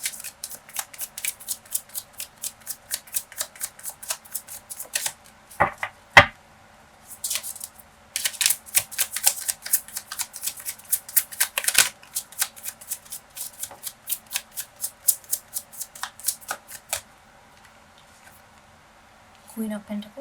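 Tarot cards are shuffled in rapid, crisp riffling bursts, with several sequences of quick flicks separated by brief pauses and a few soft thumps, close and clear.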